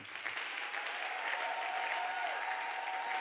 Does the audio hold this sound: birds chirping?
no